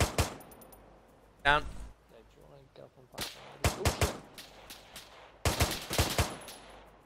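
Sharp, distinct gunshots in Arma 3, single cracks and short clustered bursts ringing out near and far, interspersed with squad members talking over radio.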